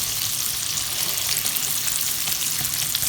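A fenugreek curry base for a chickpea and potato jalfrezi fries on full high heat, giving a loud, dense, unbroken crackling sizzle close by with no talking.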